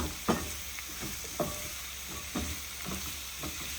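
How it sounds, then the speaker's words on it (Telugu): Tomatoes and a bell pepper frying in a pan for an Indian meal, a soft steady sizzle with a few scraping stir strokes at intervals, close and fairly quiet, with no voices. "టొమాటోస్ అండ్ బెల్ పెప్పర్, ఒక బెల్ పెప్పర్ తీసుకున్నాను. సో ఇది ఇప్పుడు మంచిగా ఫ్రై అవ్వాలి ఇదంతా కూడా"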